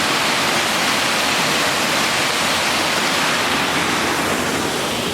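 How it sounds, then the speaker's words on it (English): Running water of a stream rushes beneath a footpath bridge, a loud, close, steady broadband wash with no breaks and no talking. "to view the running water"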